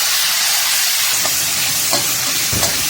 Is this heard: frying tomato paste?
yes